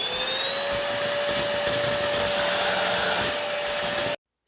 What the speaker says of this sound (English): So you could probably tell this isn't the quietest stick vacuum out there.